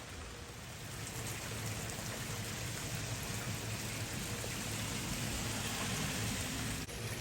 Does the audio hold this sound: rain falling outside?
yes